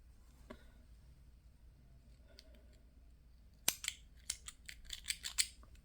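Scissors snip through yarn while a teddy bear is crocheted, a close series of quick, crisp cuts after a few faint handling clicks, loud and sharp against a quiet background.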